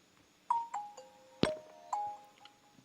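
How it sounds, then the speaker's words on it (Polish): Nokia 5310 (2020) phone playing its startup welcome melody: a short sequence of bright electronic tones, a few distinct notes with one louder chime in the middle, heard close and clear with no talking. "I słyszymy muzyczkę powitalną."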